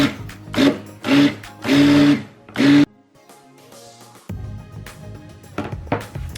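A stick blender mixing cold process soap batter on its normal, non-turbo setting, running in four short close motor bursts with a gap after each, then a quieter stretch of handling and light clatter.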